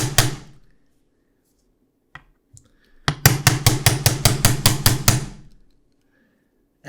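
A small hammer drives an ACR adapter onto a SIG SG55x rifle with a rapid run of about ten sharp metallic whacks, close and loud, after a few isolated taps and quiet gaps.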